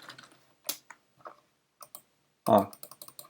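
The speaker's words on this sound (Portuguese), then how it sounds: "Se eu digitar alguma coisa nesse" Scattered keystrokes on a computer keyboard tap out in short irregular clusters, close and fairly crisp, with a louder run of clicks near the end and brief gaps of silence between.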